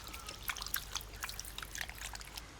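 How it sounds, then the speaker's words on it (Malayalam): A drop of coconut oil trickles onto chammanthi in a village kitchen, giving soft, close liquid dribbles and small wet ticks over about two seconds, with no talking. "ഇനി ഒരു പൊട്ട് വെളിച്ചെണ്ണ ഒഴിച്ചിട്ട് നമുക്ക് ചാലിക്കാം"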